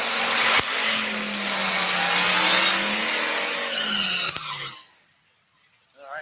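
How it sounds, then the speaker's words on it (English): Race car engines roar loudly during drag-racing burnouts, with rising revs and tire squeal, before cutting off abruptly into near silence. "good burnouts by both racers there"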